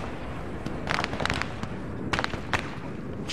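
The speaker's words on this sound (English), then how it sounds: "Warning, incoming artillery south. Danger close." Artillery shells land in the Arma 3 video game as a series of sharp, moderately loud bursts and crackles, with several impacts clustered over a few seconds and no talking.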